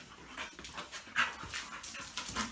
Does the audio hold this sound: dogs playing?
yes